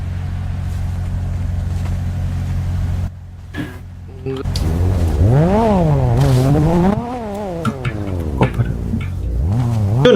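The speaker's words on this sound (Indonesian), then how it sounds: "inisiasi balap sama Five-Star" A car engine in a roleplay video game revs at the start of a race, a low droning idle that drops away and then swings into rising and falling revs, loud and close, with voices around it.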